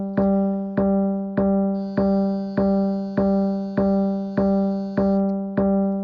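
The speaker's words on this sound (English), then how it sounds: "On the practice bagpipe sounds like this." A practice bagpipe chanter holds one steady reedy note, broken by about ten short gracenote blips at an even pulse, loud and close.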